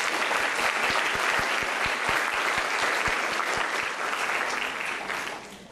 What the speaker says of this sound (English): May I ask you for a round of applause for all the helping hands here.